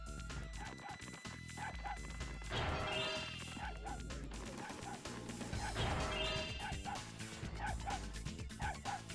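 A dog barking in the game Spyro 3: Year of the Dragon, with repeated sharp yips and barks in quick succession over busy game music and effects.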